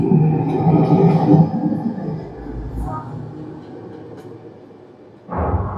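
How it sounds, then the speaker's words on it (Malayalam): A train sound effect plays in a Dolby Atmos cinema demo at a movie theatre: a loud, rumbling rush that gradually fades and thins out, then a sudden heavy burst returns at the end. "പിക്ചർ ആസ്വദിക്കുമ്പോൾ ഡോൾബി അറ്റ്മോസിന്റെ ധ്വനി നിങ്ങൾക്ക് ചുറ്റിലും കറങ്ങും. ഈ ട്രെയിൻ പോലെ."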